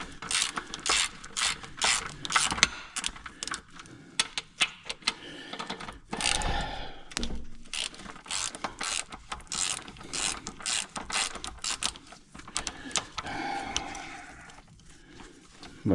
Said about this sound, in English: just use my regular ratchet to take them off